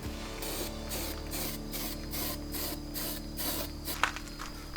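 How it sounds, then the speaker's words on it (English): Rust guard black spray paint applied to a Toyota Land Cruiser 80 Series tailgate: steady pulsing aerosol hiss in regular bursts, close and continuous, with a small click near the end. "So we'll give her a spray"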